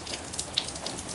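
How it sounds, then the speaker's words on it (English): Rain falls outside as a steady, even hiss with soft scattered drop taps. It is continuous, moderately loud, and no one speaks. "it's raining outside right now"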